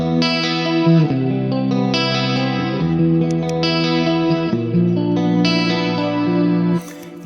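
Electric guitar through a CE2 chorus model on a Quad Cortex, sustained shimmering chords with a wobbling, wide modulated tone, played loud and alone with no talking.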